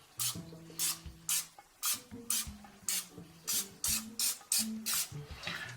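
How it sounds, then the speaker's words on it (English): Canola oil sprayed over the top of beef in a pan before roasting: a regular run of about a dozen short, hissing aerosol bursts, close up and clear, with brief gaps and small clicks between them and no talking. "take a little bit of this canola oil and just spray the top so they brown pretty good"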